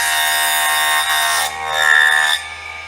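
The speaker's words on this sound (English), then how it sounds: "you can put the whole bit of timber right through. It's a bit of plywood." A small hobby table saw runs with a steady high-pitched whine as a piece of plywood is fed through, the tone shifting briefly under load before the blade spins back to idle.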